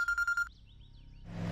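A mobile phone rings with a rapid electronic trill in four quick bursts, loud and close, then cuts off into quiet with faint tones before room noise rises.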